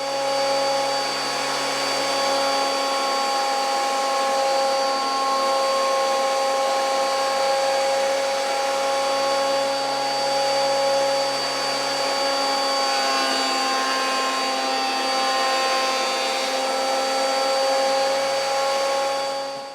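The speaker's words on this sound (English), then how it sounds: "we'll break out our planer thicknesser now and we'll mill all this lumber down." A planer thicknesser milling lumber for a guitar build hums with a loud, steady, tonal whine, the cutterhead droning continuously with slight changes as boards feed through.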